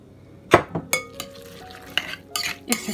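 Young cabbage salad dressed with light olive oil being stirred in a bowl, giving a few scattered scraping and clinking knocks of a utensil against the dish, close and moderately loud with quiet gaps between strokes.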